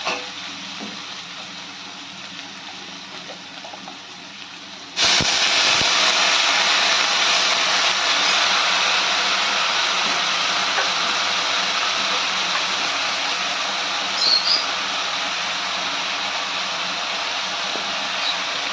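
Loud, steady sizzle bursts out as a little water hits a hot pan of hilsa fish head and taro curry, following a quieter stretch of frying, and continues as a constant hiss.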